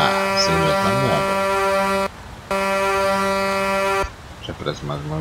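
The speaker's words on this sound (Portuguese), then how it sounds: "Já parece mais uma buzina." A loud, steady Iveco truck air horn in Euro Truck Simulator 2 blares in two long blasts with a short gap between them, while someone talks before and after.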